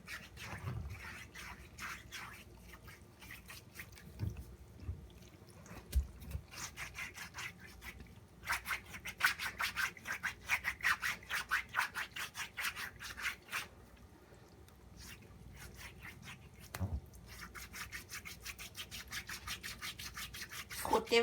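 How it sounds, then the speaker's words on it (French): A tool rubs and scrapes dead skin from feet loosened by vinegar and lemon, making close, rapid back-and-forth rasping strokes in bursts with brief pauses. "J'enlève toutes les peaux mortes que le vinaigre et le citron ont décollées."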